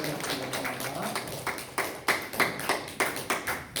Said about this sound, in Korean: 박수를 또 호산나 성령 격려의 박수를 드리겠습니다.